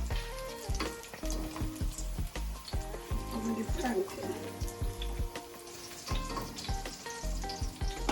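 Food sizzling in a pan after being flipped while cooking ackee and saltfish, a crackling fry with clattering utensil knocks and bursts of sizzle, mixed under music and occasional voices.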